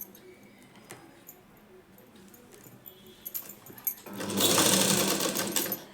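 A sewing machine stitches a blouse, quiet handling and small clicks first, then a loud, close burst of rapid stitching that runs steadily for the last two seconds.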